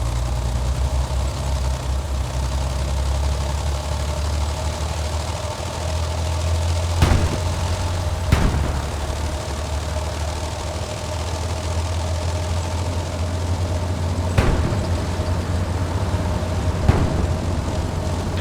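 Military truck engine idling in the video game Hell Let Loose, a steady low rumbling drone held throughout, with a few sharp distant knocks or shots cutting through and no talk.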